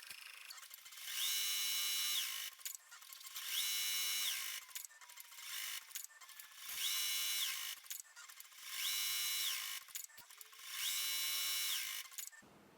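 A Ricoma Marquee 2001-10S embroidery machine stitches an HTV applique onto a baby sweater romper, giving a steady mechanical whir with a high whine that swells and pauses in about five regular bursts, every two to three seconds, close up with no talk.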